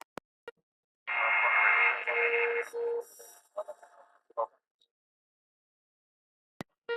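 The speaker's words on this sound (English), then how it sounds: "NASA radio, you're pretty weak." A faint, weak aircraft radio transmission crackles in at the ground at Rock Sound in the Bahamas, a few seconds of thin, band-limited radio voice between clicks and silence.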